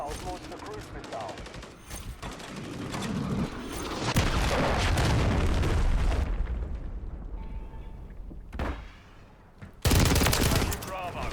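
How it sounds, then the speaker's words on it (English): Heavy bursts of gunfire and big explosive booms from a cruise missile strike rumble through a Call of Duty match, loud and dense, with a lull near the end before another loud burst. "Hostiles launched a cruise missile."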